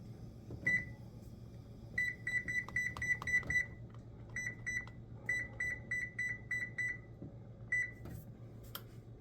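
An oven control panel beeps in rapid runs of short, high electronic tones while being set to preheat to 425 degrees for chocolate chip muffins, with brief pauses between bursts and a low kitchen hum underneath.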